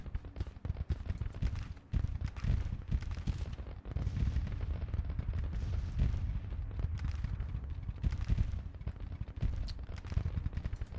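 Artillery bombardment plays out in the Civil War strategy game Grand Tactician. Booms and crackling blasts come in dense, continuous succession throughout, with some heavier thumps standing out above a rumbling background.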